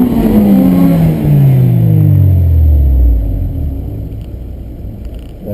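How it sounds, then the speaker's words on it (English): A Honda engine with VTEC screams at high revs during a ProSolo autocross run at Mineral Wells, loud and close, its pitch falling steadily as the car passes and fades. "And that is the sound of VTEC."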